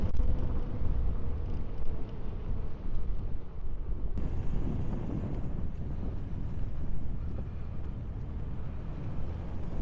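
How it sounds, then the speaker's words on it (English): Wind buffets the microphone of a camera mounted on a moving e-bike, a steady low roaring rush lasting throughout with no speech. "Oh, the wind. Gosh dang it."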